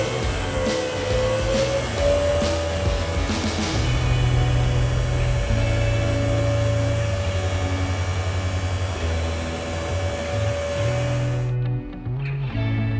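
A SAM Topcon fertiliser spreader's spinners run on tractor hydraulics, giving a steady mechanical hum with a sustained whine and engine drone underneath, fairly loud and constant until it cuts away abruptly near the end.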